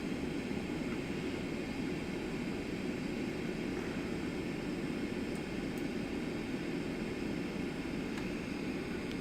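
Steady, broadband roar of an airliner climbing out after takeoff from Baltimore, heard from the cabin as a constant engine and airflow rush with no pauses and no voices.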